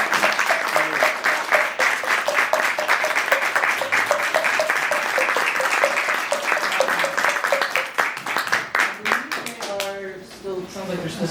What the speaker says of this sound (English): let's get another big round of applause for that.